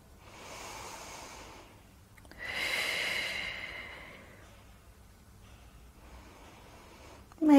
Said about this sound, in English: just breathe into the ribs, keeping the navel drawn in a teeny tiny bit